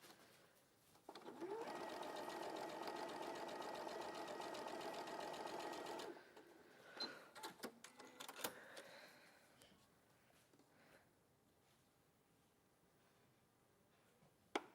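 A sewing machine stitches quilt patches into a 4-patch block, running in one steady whirring burst for several seconds before stopping, followed by fainter handling noises.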